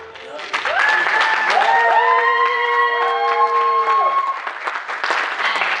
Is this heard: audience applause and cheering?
yes